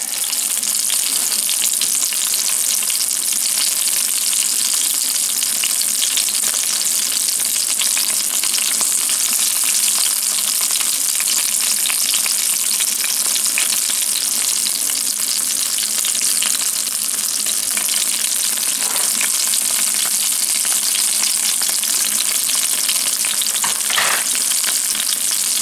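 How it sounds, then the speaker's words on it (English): Fresh turnip greens cook in a cast iron pan with a steady, dense sizzle that runs unbroken throughout, close and fairly loud, with a few brief louder crackles and stirring scrapes near the end and no talking. "Our greens are cooking away."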